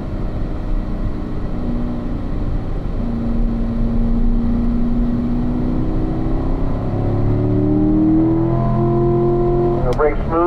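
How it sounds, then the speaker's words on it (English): Race car engine on a driving track, a steady loud drone whose pitch slides down as it brakes and downshifts, with revs climbing again near the end and a voice talking over it. "I'll brake and downshift."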